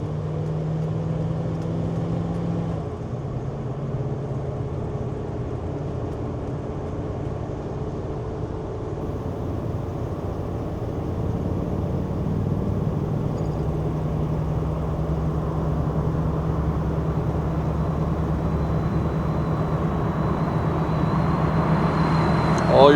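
A 1979 GMC K1500 Sierra Grande 4x4 pickup drives down a road, its steady engine and road rumble continuous from inside the cab, with a gear shift around the third second and the drone rising slightly toward the end.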